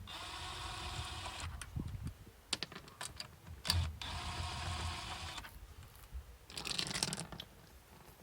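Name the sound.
impact gun removing wheel bolts on Audi A3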